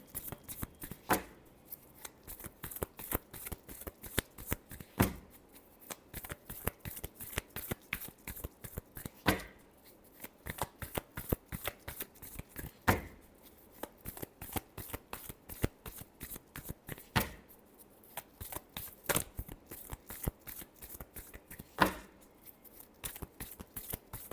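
Tarot cards are riffled and shuffled by hand over and over in close, crisp bursts of rapid flicking, with short pauses between rounds and no talking.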